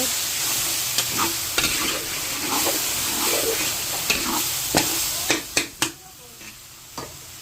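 Mixed vegetables with cream of mushroom are stirred in a frying pan: a low sizzle runs under repeated scrapes and knocks of a spoon against the pan, growing sharper and more spaced near the end.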